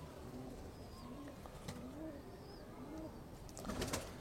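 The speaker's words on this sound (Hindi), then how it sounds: "हैदर भाई बड़ी खुशी हुई है कि आपके पास एक रवायती कबूतर नहीं है, हट के कबूतर हैं" Fancy, non-traditional breed pigeons coo softly and repeatedly in low rolling phrases, with a few faint higher calls over steady background noise. The cooing grows slightly fuller near the end.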